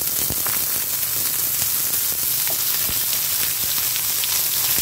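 Potatoes and raw papaya fry in a pan with spices for a vegetarian curry, giving a steady, close, even sizzle dotted with small crackles and pops throughout, with no talking.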